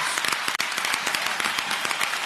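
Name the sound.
audience applause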